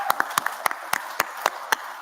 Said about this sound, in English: Everybody give a round of applause to Jordan and Josh.